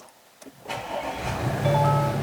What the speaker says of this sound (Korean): 자, 시동을 한번 걸어보겠습니다